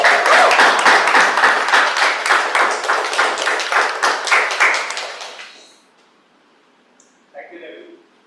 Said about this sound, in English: let's give it a big round of applause for Toastmaster Jatin